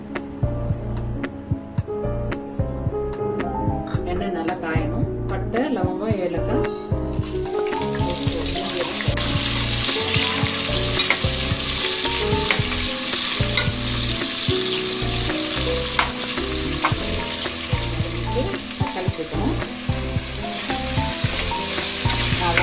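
Loud, continuous sizzling of cinnamon, cloves and cardamom frying in hot oil for chicken biryani, with occasional clinks and stirring sounds close by.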